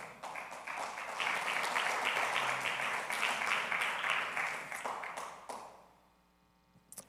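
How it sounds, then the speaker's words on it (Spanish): A church congregation applauds during a worship service, a dense, full round of clapping that swells, holds for several seconds and then fades away into near silence. "Le damos un aplauso al Señor, por favor."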